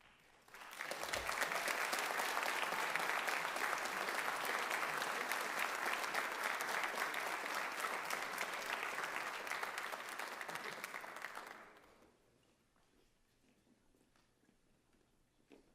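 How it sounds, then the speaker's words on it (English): Large crowd applause at a high school senior honors night, a loud sustained roar of clapping for about eleven seconds that stops abruptly, leaving faint room noise. "one more round of applause"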